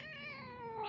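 A cat lets out a single drawn-out yowl, loud and close, its pitch wavering and sliding downward, with no talking over it.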